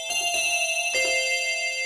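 A bell-like Yamaha DX7 synthesizer patch strikes twice in quick succession and then once more. Each strike is loud and clear and rings on with a bright, sustained metallic tone.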